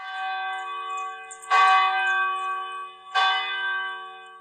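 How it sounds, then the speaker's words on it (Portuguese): Church bell ringing the Angelus, two clear resonant strikes about a second and a half apart, each leaving a long sustained humming tone that lingers between them, alone without talk. "Isso que vocês ouviram agora era o sino do Ângelus."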